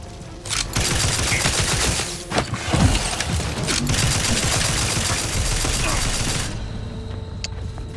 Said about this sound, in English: Somebody else is shooting me.